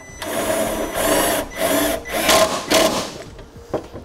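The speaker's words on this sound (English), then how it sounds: "We're just going to use some self-tappers and fasten them right here on the front side." Self-tapping screws driven by a power tool into transmission cooler mounting brackets for a Derale Series 8000 plate-fin cooler kit, several loud whirring bursts in a row with short pauses between them, close up and with no talking.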